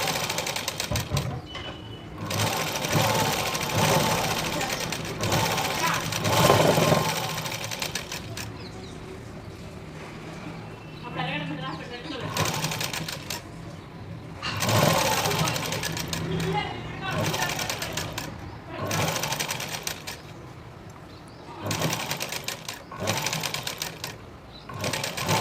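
A tailor's sewing machine stitches a frill frock in uneven runs of rapid rattling, stopping and starting repeatedly, moderately close, with someone talking over and between the runs.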